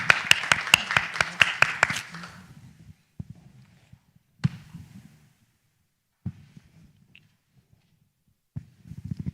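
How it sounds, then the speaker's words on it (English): Audience at a health and wellness panel clapping in a brief quick burst of claps that fades within about two seconds, followed by sparse thumps and quiet room noise. "we can clap for him as he comes"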